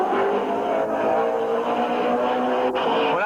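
Red and white number 56 race car at a speedway with its accelerator stuck, engine held at a loud, sustained wide-open-throttle roar with shifting pitch, continuous and close.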